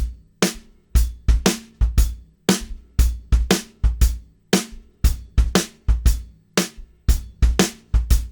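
Drum kit playing a shuffle groove: loud, close, evenly swung hits with sparse space between beats, played alone for about eight seconds.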